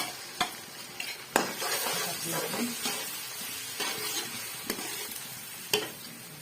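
Ginger garlic paste sizzles and hisses in a hot pan while a spoon stirs, with occasional sharp clinks of utensil against metal.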